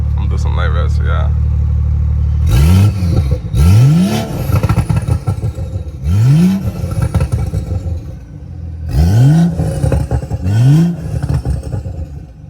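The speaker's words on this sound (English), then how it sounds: "I'm gonna do some light revs for y'all." A 2018 BMW 540i xDrive engine is given several short, light revs from idle, each a quick rising then falling sweep, close and loud, with brief idle pauses between them.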